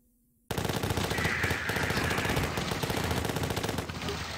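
Rapid, continuous Uzi submachine gun fire in the zombie survival game The Last Stand 2, bursting in loudly after a brief silence and rattling on steadily to the end.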